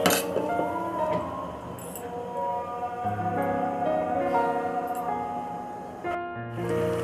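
A lid is set down over a pot of chicken curry with potatoes, giving light metallic clinks and a rattle over a steady background hum.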